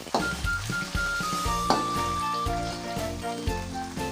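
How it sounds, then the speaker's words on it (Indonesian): Nasi goreng with chopped meatballs sizzles loudly in a pan while a utensil stirs it, knocking and scraping against the metal every half second or so. "Nah, semuanya diaduk ya guys."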